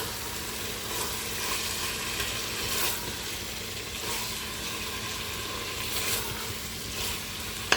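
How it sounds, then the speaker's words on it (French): Steady sizzling of food frying in a saucepan, a continuous crackling hiss with occasional louder spits; no voices. "si ça rissole"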